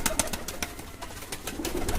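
Pigeons coo close by in a steady low murmur, with shuffling and light knocks mixed in and no voices.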